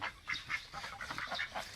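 A crested duck gives a quick run of nasal, close-up quacks, several calls in under two seconds over faint background noise.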